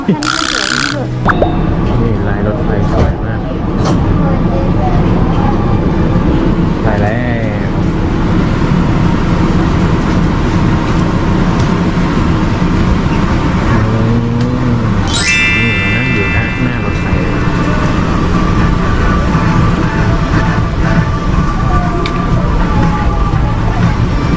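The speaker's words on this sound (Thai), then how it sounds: "รถไฟ มิกกี้เมาส์ มาแล้ว" A Mickey Mouse-themed train arrives and carries riders at Tokyo DisneySea, giving a steady rumbling ride noise with a brief rising whine midway and people talking over it throughout.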